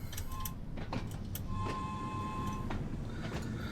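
A train on the Isle of Wight route in Train Sim World 2 pulls away, with a low rumble of traction under clanking, brief tonal whines and bumps from the carriages; no voices.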